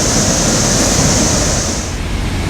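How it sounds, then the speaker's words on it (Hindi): Monsoon floodwater in Udaipur, Rajasthan, surging over a bridge during heavy rain: a loud, steady rushing roar of churning water that holds for the whole stretch without a break. "पुल के ऊपर से उफनता पानी"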